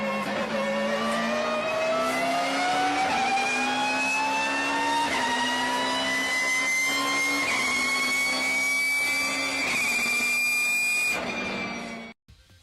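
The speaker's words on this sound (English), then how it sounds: "I will now put a clip of how shortcut gears sound" A video game car engine with short gears in Need for Speed revving steadily upward in pitch through quick gear changes, loud and continuous, cutting off abruptly at the end.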